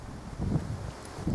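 Gusty outdoor wind buffets the microphone in low rumbling bursts, fairly close and steady with a few stronger swells, no talking over it.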